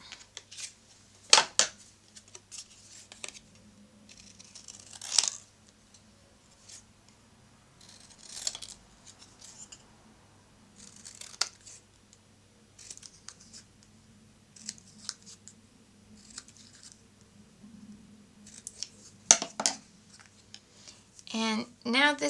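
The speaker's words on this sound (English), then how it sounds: "And then cut this out." Scissors snip out a stamped paper piece for a scrapbook page, a series of close, crisp cuts in irregular bursts, with a voice talking quietly between them.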